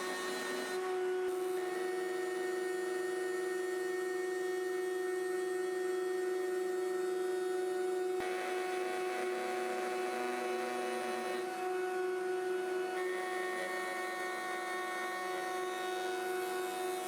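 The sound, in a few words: router milling wood on a router table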